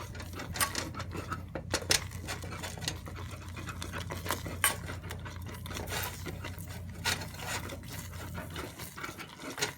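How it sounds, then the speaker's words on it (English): A thick homemade gummy bear mixture being stirred to break up chunks, with close, steady rubbing and scraping strokes and occasional knocks against the pot, no talking. "Let me just stir it. Make sure the chunks break up."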